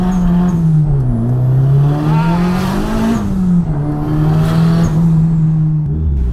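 A 2000 Nissan Silvia S15 Spec R making a U-turn on a Philippine road: a steady, loud engine drone with the pitch dipping and rising as the car turns, heard from close by and with no talking.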